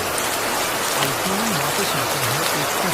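Steady rain falls through a bamboo grove, a dense, even hiss that holds for the whole stretch, with a low wavering tone drifting beneath it.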